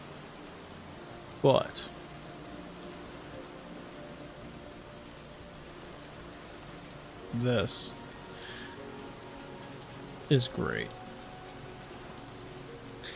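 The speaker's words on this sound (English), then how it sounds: "hearing and seeing the rain hit the water is just so phenomenal" Rain hitting water in the video game Vintage Story, a soft steady patter and hiss continuing throughout, with someone talking briefly over it a few times.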